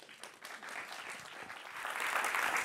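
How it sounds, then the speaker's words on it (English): Conference audience applauding to welcome a speaker at a Python event in London, a dense steady clapping that swells toward the end, with no voices over it. "So please give an applause for Gisela Rossi."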